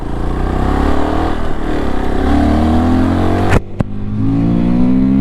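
Fantic Caballero 500 single-cylinder motorcycle engine revving hard and bouncing off the rev limiter, a loud steady drone with a sharp stutter and cut near the end before it picks up again.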